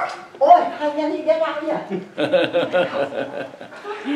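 A small dog barks in short yelps close by during an indoor interview, with people talking over and around the barking.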